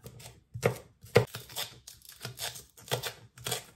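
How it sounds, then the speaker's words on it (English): A knife slices food into small pieces for a stir fry, making a string of crisp, uneven chopping strokes against a cutting board, close and fairly quiet. "We're just going to be slicing them into small little pieces like that."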